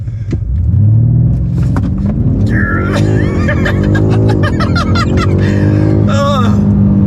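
BMW M5 Competition launching hard from a standstill, a loud engine roar climbing through the revs with rising harmonic sweeps and a brief shift break, heard from inside the cabin with a passenger laughing and exclaiming over it.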